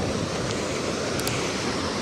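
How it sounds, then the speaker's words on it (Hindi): Rushing water from a waterfall, a steady loud broadband roar that stays constant and close, with no voices. "ये पता नहीं कहाँ से पानी आ रहा है।"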